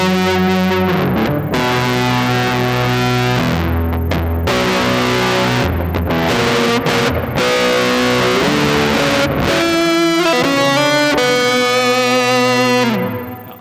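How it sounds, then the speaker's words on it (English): Distorted electric guitar chords ring out with a long reverberant decay, loud and continuous, sustaining and shifting between notes before fading at the end. "add some distortion in here so you can hear this reverb type with a little distortion"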